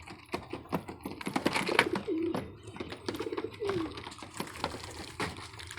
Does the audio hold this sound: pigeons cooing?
yes